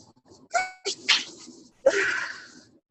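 A single sneeze bursts out during an online group call, a sharp close burst followed by a breathy trailing exhalation, with brief quieter vocal sounds just before it.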